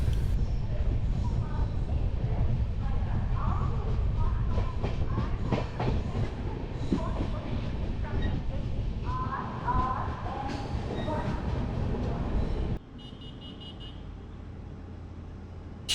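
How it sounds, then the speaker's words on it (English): Steady rumble and rattling of an Indian train car rolling along the tracks, with clattering and squeaks, then a quieter lower hum as it slows arriving at a major station near the end. "This is a major train hub, so the train will stop for around 5 to 10 minutes here."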